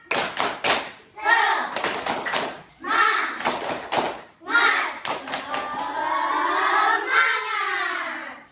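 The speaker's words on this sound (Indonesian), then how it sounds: "Kita tepuk semangat dulu." Schoolchildren in an Islamic studies classroom doing the rhythmic 'tepuk semangat' clap: sharp patterned hand claps in repeated bursts, near and loud, with children's voices chanting between and over them.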